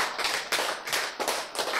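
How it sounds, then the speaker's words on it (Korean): An audience clapping at a lecture: brisk, close hand claps in quick irregular bursts, about seven sharp strikes in under two seconds. "박수."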